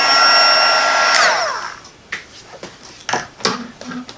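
A heat tool blows steadily and loudly on the back of heat-embossed paper, a broadband whoosh with whining tones that cuts off after about a second and a half, followed by a few soft handling taps and rustles.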